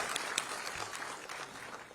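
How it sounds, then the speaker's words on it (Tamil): Loud, dense applause from an audience, a continuous patter of many hands clapping for two seconds with no pauses. "பலத்த கைத்தட்டல்கள் கொடுக்கலாம்"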